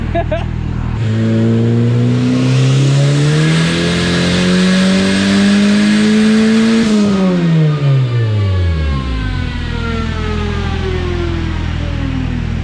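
A turbocharged Honda K24 engine revs hard on a test pull, pitch climbing steadily before abruptly stuttering at the boost cut and winding back down, loud and close throughout.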